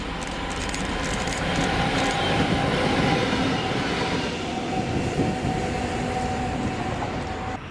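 A Class 66 diesel locomotive hauls a rail freight train past, its wagons rumbling loudly and steadily with rhythmic wheel clatter and a faint squeal, no voices.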